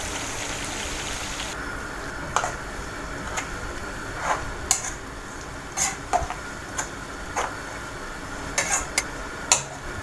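Food is stirred in a pot while making koshari, with scattered clinks and scrapes of a utensil against the pot over a steady frying sizzle.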